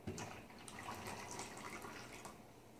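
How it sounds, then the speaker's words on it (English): Hot water pours back into a Bellemain stainless steel double-wall French coffee press, a steady close splashing stream that runs unbroken for the whole stretch. "So we're going to go ahead and pour the water back in."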